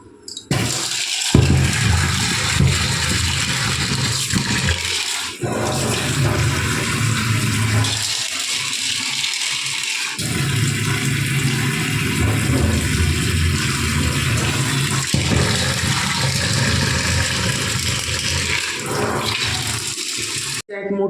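Water runs steadily from a tap to soak dried peas, a continuous splashing rush with brief interruptions, close and fairly loud.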